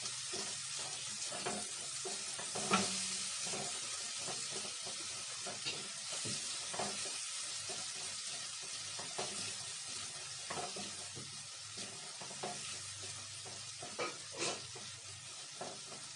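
Yogurt and red chili sautéing together in a pan give a steady, moderate sizzle and hiss, broken by scattered scraping clicks of stirring over about sixteen seconds.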